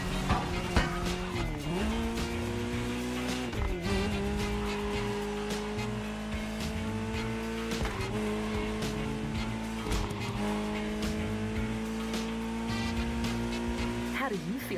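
A Ferrari 308 GTS drives in The Crew Motorfest racing game, its engine revving up and dropping through repeated gear shifts over about fifteen seconds, loud and steady with tire noise.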